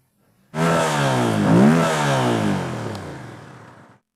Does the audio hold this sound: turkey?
no